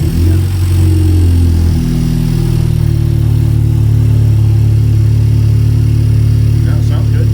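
A 2021 Honda Civic Type R with a flex fuel kit cranks and catches, then settles into a steady, droning idle, loud and close, with brief voices over it.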